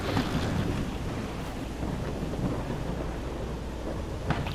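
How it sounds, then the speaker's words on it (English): Summer afternoon thunderstorm in the motocross racing game MX vs ATV Legends, a steady broadband wash of rain with low rumbling thunder underneath, fairly soft and continuous with no voices. "It is summertime, so afternoon thunderstorms."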